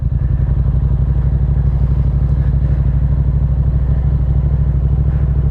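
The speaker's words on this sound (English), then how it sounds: "it starts pulling me forward, like no throttle, nothing, and I'm already coasting" A motorcycle creeping forward on the clutch alone with no throttle, its engine a loud, close, rapid pulsing idle thump that stays steady and even throughout.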